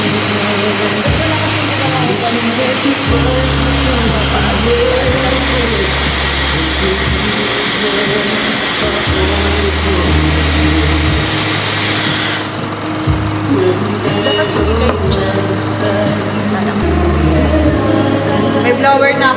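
A hair dryer blows loudly and steadily while damp hair is dried, its airflow roaring with shifts in pitch as the setting or angle changes, with steady low background music underneath.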